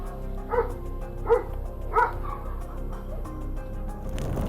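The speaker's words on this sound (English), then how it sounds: "the guard dogs come charging in" Guard dogs barking at an intruder, three sharp barks spaced about a second apart over a low rumbling background, ending in a rising rush of noise.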